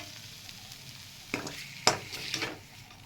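Onions and paneer for paneer do pyaza sizzle steadily in a pan while a spoon stirs and scrapes against it a few times.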